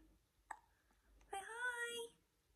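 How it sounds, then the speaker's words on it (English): A baby boy gives one small, quiet hiccup. Moments later comes a short, grumpy whimpering cry in a hushed indoor room. "he's grumpy because he's got hiccups and he hates having hiccups"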